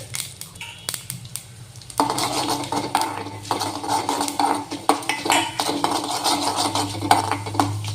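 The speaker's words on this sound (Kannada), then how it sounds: "ಕಡಲೆಬೇಳೆ ಉದ್ದಿನಬೇಳೆ ಆ್ಯಡ್ ಮಾಡಿ ಅದು ಸ್ವಲ್ಪ ಕೆಂಪು ಆಗೋದು ಫ್ರೈ ಮಾಡಿಕೊಡ್ರಿ" Chana dal and urad dal frying in a hot oil tempering with cumin, a soft continuous sizzle with metal spoon scrapes and clinks against the pan, close by.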